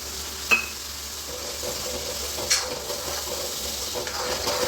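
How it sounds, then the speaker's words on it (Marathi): Tomato paste sizzles gently in a pan with onion masala and turmeric for an egg curry, a steady soft hiss with faint stirring clinks and no talking. "इकडं आपला टोमॅटो चांगला परततोय"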